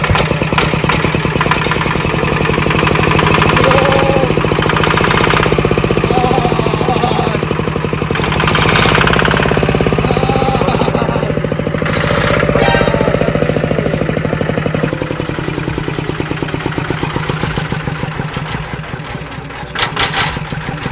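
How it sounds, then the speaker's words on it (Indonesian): A motorcycle with a CJDW exhaust pipe runs loud and close, its engine revving and burbling continuously with a rough, throbbing pulse that eases slightly toward the end, with no talk. "Suara knalpotnya di bawah."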